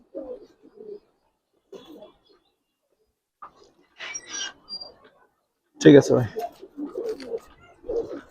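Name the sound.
silver khaki Giribaz pigeons cooing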